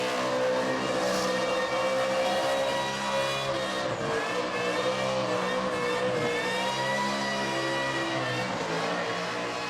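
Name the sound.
supercharged car engine blower whine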